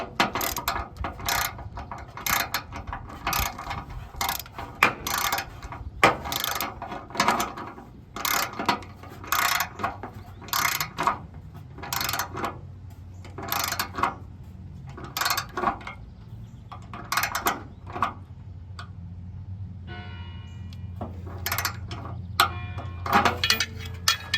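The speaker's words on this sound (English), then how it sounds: "we're now going to torque them all down to 21 foot-pounds" A torque wrench ratchets spark plugs tight on a Subaru Sambar, giving repeated crisp clicking bursts in an uneven rhythm, close and clear, with no talk.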